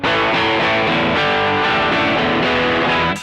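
An electric guitar plays through a TC Electronic Nova Drive pedal with the gain set low, giving loud, sustained, slightly gritty chords that ring continuously for a few seconds.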